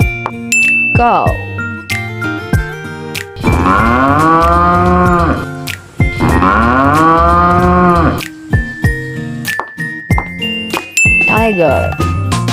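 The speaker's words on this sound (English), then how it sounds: "Cow." A cow gives two long, loud moos, each lasting a couple of seconds, over a bouncy musical backing with light jingles.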